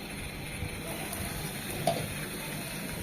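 Poya fish and eggplant frying in a pan, a steady, even sizzle with a faint stir partway through and no talk.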